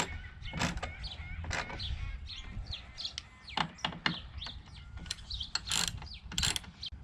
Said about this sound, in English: So when you do your final tightening here, do them like you would a tire, crisscross.